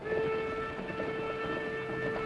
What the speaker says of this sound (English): There's our train.